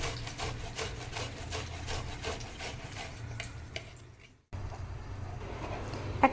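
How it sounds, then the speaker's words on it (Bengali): Fresh ginger and garlic being grated by hand for a cabbage curry give steady, rhythmic rasping strokes, close and fairly loud, that stop briefly before the scraping resumes. "আদা রসুন ঘষে নিচ্ছি"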